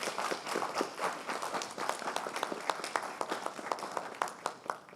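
Room audience at a programming conference clapping after a talk, a sparse scattering of individual claps with uneven rhythm, moderately close and fairly quiet.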